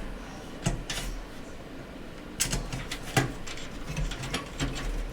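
Small screws being driven with a non-magnetic screwdriver while assembling a gaming PC with an Nvidia 3070, giving scattered close clicks and ratcheting taps in uneven bursts over a low background hum.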